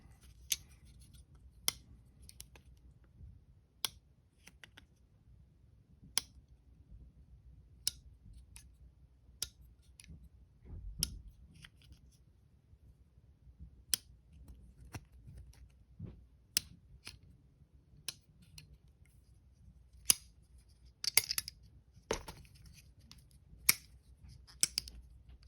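A Spyderco Para 3 folding knife, lightweight and G10 models, snaps shut again and again in a quiet room, each close a crisp, isolated click spaced a second or two apart.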